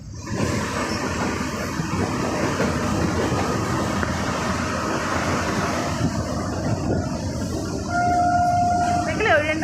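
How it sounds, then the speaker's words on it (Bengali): A train rolls past on the railway, a loud, continuous rumble and rattle of wagons that swells toward the end, with a brief high whistle-like tone near the close and people talking over it. "এটা আর একটা ট্রেন পাস হচ্ছে"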